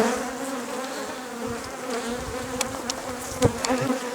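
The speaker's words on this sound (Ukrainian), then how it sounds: "У мене навколо камери більше літає бджоли, чим чим в сім'ю і сім'ї." Honey bees buzzing as they fly around close by at a hive whose foraging bees have gone missing, a steady layered drone with individual bees passing louder near the microphone.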